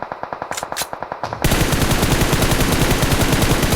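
Rifle fire in the mobile battle-royale game PUBG Mobile: first a quick run of separate loud shots, then a rapid unbroken automatic burst, close and loud throughout.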